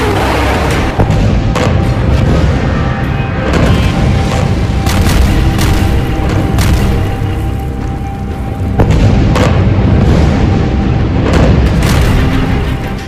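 Heavy, continuous booming from Israeli Merkava tanks exploding, a dense roar of loud thuds and blasts with several sharper impacts standing out, all close and filling the whole stretch.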